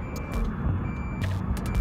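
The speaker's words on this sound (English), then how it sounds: "you hear that beeping out there? That means we're armed." Short electronic beeps repeat at intervals, signalling a Civil Air Patrol cadet rocket launch is armed, over a steady low rumble of vehicle engine noise.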